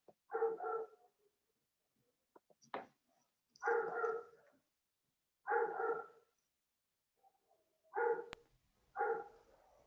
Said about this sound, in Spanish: Tenemos un perrito que nos acompaña, a ver si háganlo callar ese perrito.